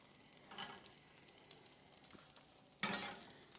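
Buttered ciabatta bread sizzles and fries in a pan, with soft scraping and a spatula flip bringing a fresh burst of sizzle near the end; quiet and close, with no talking.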